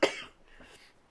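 A single short cough, close and fairly soft, followed by a brief raspy breath.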